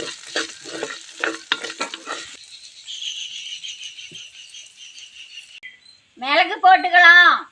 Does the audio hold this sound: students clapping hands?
no